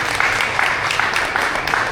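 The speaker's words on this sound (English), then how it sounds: "one more round of applause for our winter cohort" Audience applause for a winter cohort at the close of a talk event, steady dense clapping throughout, fairly loud and continuous with no voices over it.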